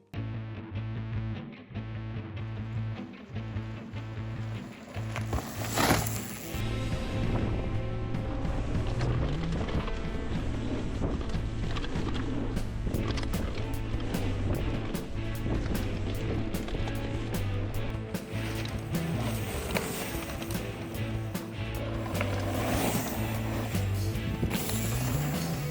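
A cheap AliExpress mountain bike ridden hard on Galbraith Mountain trails in Washington, with continuous rattling, rumbling tyre and frame noise and rushing wind, punctuated by sharp clanks over rough ground.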